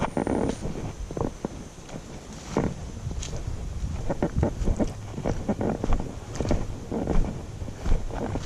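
Gusty wind on a mountain peak buffets the microphone throughout, a steady roaring rush broken by sharp thumps and bursts, with no talking.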